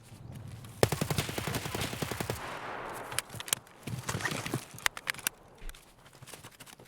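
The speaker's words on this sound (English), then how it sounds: "That's a lot of goddamn shots" Gunfire in the tactical shooter Escape from Tarkov: a rapid automatic burst followed by scattered sharp single and double shots at varying distances, with quieter pauses in between.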